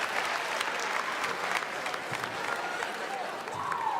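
Audience applause fills a convention hall at PAX West 2016, a dense, steady wash of clapping from a large crowd that holds loud and unbroken throughout.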